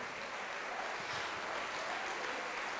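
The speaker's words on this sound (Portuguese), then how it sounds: "vamos aplaudir mais ao Senhor." A church congregation applauds during a worship service, a steady, even wash of clapping from a sizable crowd, heard from some distance and fairly soft, with no voices rising above it.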